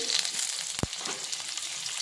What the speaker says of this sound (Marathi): त्याच कढईमध्ये पनीर फ्राय करून घ्यायचे